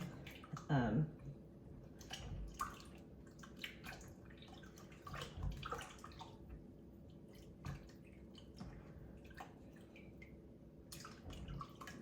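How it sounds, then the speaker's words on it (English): Hands swish and splash in a bowl of water to scrub off sticky flour dough, making intermittent close sloshing and dripping sounds with a faint steady hum behind. "you just put your hands in that bowl of water and get them as clean as you can"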